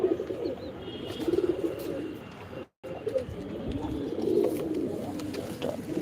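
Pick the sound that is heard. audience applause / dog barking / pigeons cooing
pigeons cooing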